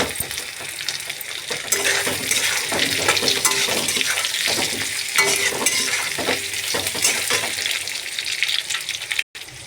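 Potatoes sizzle and crackle in hot oil in a frying pan, with steady close frying noise and frequent scraping, clinking stirs of a spatula throughout, ending in a brief cut.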